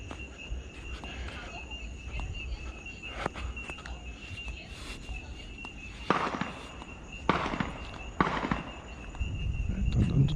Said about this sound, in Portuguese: Tá dando tiro aí.